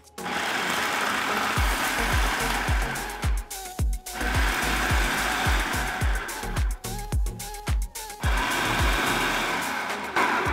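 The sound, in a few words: food processor grinding walnut halves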